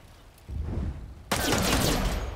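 Gunfire in the video game Miasma Chronicles, a short burst followed by a sudden louder volley of rapid shots that fills the rest of the moment, close and harsh.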